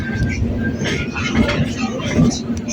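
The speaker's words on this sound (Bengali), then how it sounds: "আমাদের ট্রেনটা এই মুহূর্তে ঢুকছে তার গন্তব্যস্থল কোমা গাতামারু বজবজ স্টেশনে" A suburban train from Sealdah rolls into the single-platform terminus at Budge Budge station, a steady, dense rumble and clatter of wheels and carriages throughout, with voices talking over it.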